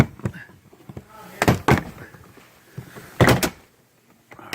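A driver's-side interior trim panel on a Chevy Equinox or GMC Terrain being pulled off, a few sharp plastic pops and thunks in quick bursts, close by, with quiet movement in between.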